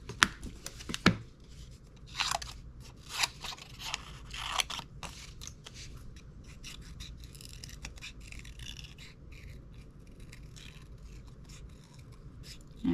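Scissors trimming a brown craft piece for fall decor, with crisp snips and paper crunching that come thick at first and then fade into quieter scraping against faint room noise.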